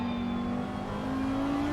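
An Audi GT3 race car at Misano in a sim racing game drones steadily, one sustained engine tone rising slowly in pitch as it accelerates, mid-level and without talk.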